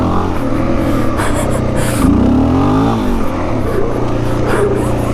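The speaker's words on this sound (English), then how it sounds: "It like it revs out of first gear too easy." Suzuki DRZ400 motorcycle engine revving hard and high in first gear, a loud continuous roar with a rising surge near the middle, close and steady throughout with no talking.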